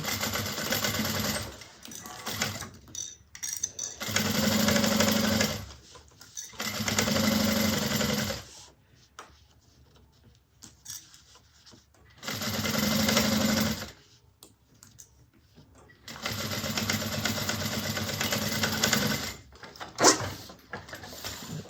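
A sewing machine stitching a Nola bag runs in several bursts of a few seconds each, humming steadily with quiet pauses between runs, close and clear with no talking.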